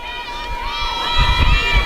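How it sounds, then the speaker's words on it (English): At a windy women's college softball game between the Blazers and the Storm, a crowd cheers and shouts, building louder toward the end of a short burst, with voices close by. "Crowd's starting to get into it here"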